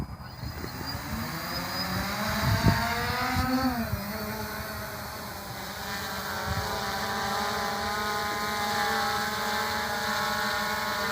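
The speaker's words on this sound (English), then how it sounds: "I am about to take off with the Hubsan logo facing me." A Hubsan quadcopter drone lifts off in strong wind. Its propellers whir with a rising pitch and then settle into a steady drone under continuous wind noise.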